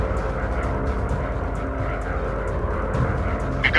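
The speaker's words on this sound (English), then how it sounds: "The plane is going down." A stricken fighter plane drops out of a World War II dogfight video game, its steady propeller engine drone roaring loud and continuous with faint clicks on top.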